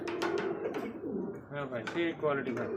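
A pigeon at a pigeon market coos softly in short throaty notes while a person talks nearby.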